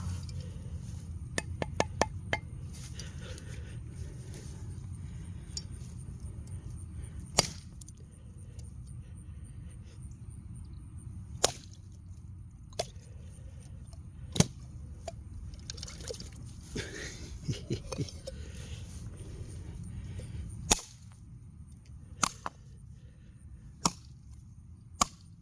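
A blade chops repeatedly into a coconut outdoors, sharp hard thwacks spaced irregularly with some quick clusters, over a quiet background.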